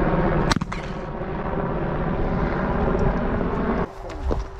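A loud, continuous helicopter rotor roar passing close overhead at a skeet shooting range, broken early by a sharp gunshot bang and easing toward the end.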